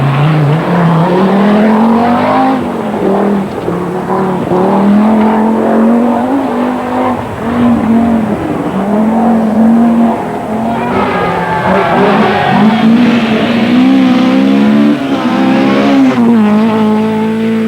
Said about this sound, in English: the four-wheel drive turbocharged Audi Quattro